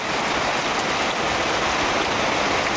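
Dried red chillies and bay leaves sizzle in hot oil, a dense steady crackling hiss throughout, close and loud, no talking.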